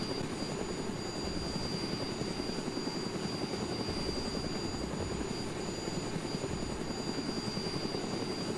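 A helicopter flies in the video game DayZ, its rotor and engine making a steady, continuous drone that stays even throughout, with no voices over it.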